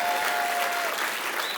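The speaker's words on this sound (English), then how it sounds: "Let's give Sherry a round of applause." Audience applause fills a banquet hall at an annual chamber dinner, a dense, steady clatter of many hands clapping at once, loud and close with no break over its short span.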